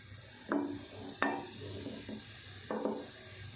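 Cumin seeds spluttering in hot ghee for a dal tadka, a quiet close sizzle broken by three or four short sharp bursts and light clinks of a spoon against the pan.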